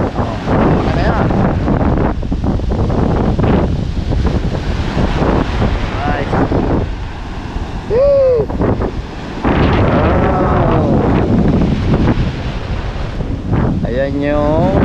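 Strong wind and large waves pound the seashore at Barangay Bukana, with heavy wind buffeting the microphone over a constant roar of surf while people talk nearby.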